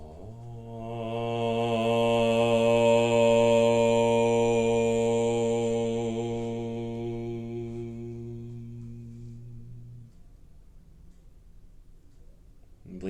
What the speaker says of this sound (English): Let's start our time to the sound of a single Om.